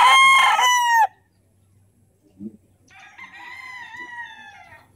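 A sweater gamefowl rooster at a game farm in Angat, Bulacan crows loudly and close for about a second, followed by a brief soft scuffle and then a second, fainter crow from another rooster farther away.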